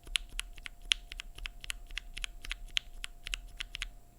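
Rapid, uneven typing on a keyboard with stock Velocifire KK Lightwave linear switches, a close series of crisp clacks in a fast rhythm with no talking.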